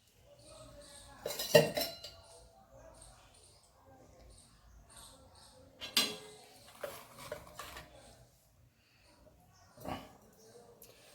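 Plates are taken out in a Gujarati home kitchen while vada pav is made, with a few scattered close clinks and clatters of dishes between quieter stretches, under faint voices.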